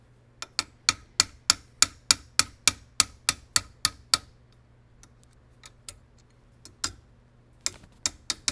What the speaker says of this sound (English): we'll go ahead and we'll drive this pin in the back end